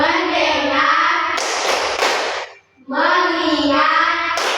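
A classroom group performing the tepuk fokus clap routine, loud close voices chanting in unison, punctuated by a few sharp hand claps, with a brief pause near the end before the chant resumes.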